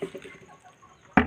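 Soft, fairly close clucking from chickens runs through a quiet outdoor background, ending with a louder burst of fowl sounds.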